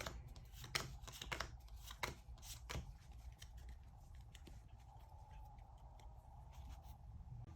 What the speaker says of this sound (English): make sure that everyone's been passed out their 7 cards. I'm going to go ahead and pass myself out 7